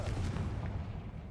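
Confringo blasting spell cast in a Hogwarts video game, a single deep explosive burst with a rumbling tail that fades over about a second, fairly quiet.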